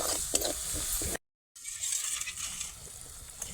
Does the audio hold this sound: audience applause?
no